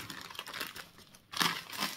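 Crinkling and rustling of a wrapped gift bag being opened, soft close-up crackles with a brief pause and then a louder burst of crumpling.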